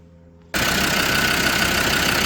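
Land Rover Defender Td5 diesel engine fired up after an oil and filter service, settling into a loud, steady idle with an even rumble that stays constant to the end.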